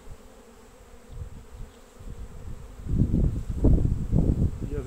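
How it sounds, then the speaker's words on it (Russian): Honeybees on a hive frame, a low droning buzz that starts faint and swells much louder and closer partway through, with rustling movement underneath. "Вот вам и пчелы."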